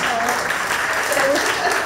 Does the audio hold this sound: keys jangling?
no